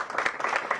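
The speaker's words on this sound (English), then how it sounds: "Give Don a big round of applause" A crowd at a public health event in the District of Columbia claps in a brief, dense burst of applause, filling the room evenly with no voices over it.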